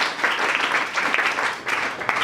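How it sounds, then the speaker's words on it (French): A church congregation applauds and cheers for the Lord: dense, steady clapping mixed with voices, close and fairly loud, swelling in waves across the short stretch. "Est-ce qu'on peut encore acclamer pour le Seigneur?"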